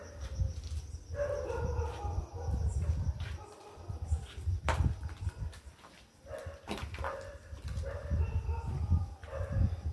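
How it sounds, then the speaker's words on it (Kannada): Dogs whine and howl in drawn-out cries, with occasional barks and some faint voices and movement in the background. "ನಾಯಿಗಳು ಹೆಂಗೆ ಅಳ್ತಾ ಇದೆ ನೋಡಿ"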